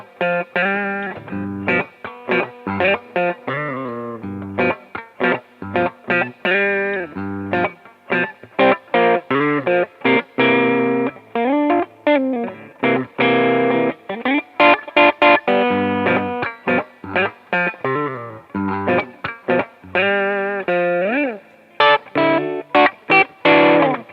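A modded Squier Bullet Mustang electric guitar with volume and tone rolled off, played through a Digitech Bad Monkey overdrive, giving a loud, mildly distorted riff of strummed chords and short choppy stabs with brief gaps, alone with no talk.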